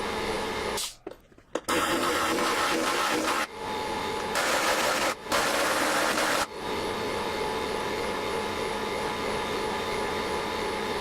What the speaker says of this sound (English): this air chisel does use quite a lot of air